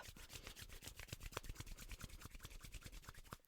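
Two palms rub together fast, a close, quiet run of rapid rhythmic swishing strokes that repeats evenly without pause, with nothing else heard.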